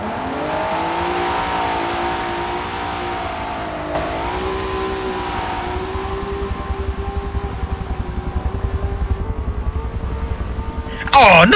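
A race car at a Daytona competition event stays on the throttle while sliding through a cone slalom, its engine droning steadily and rising in pitch, with tire squeal at the end and excited commentary over it.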